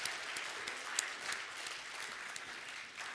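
Church congregation applauding graduates at a Sunday service, a steady, fairly faint wash of many hands clapping throughout.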